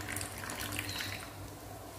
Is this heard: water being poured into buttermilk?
yes